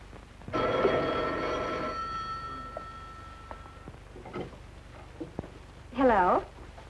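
Old-fashioned telephone bell rings once in a long trilling burst, then fades into quiet room sounds before a voice briefly speaks.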